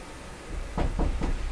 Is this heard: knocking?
yes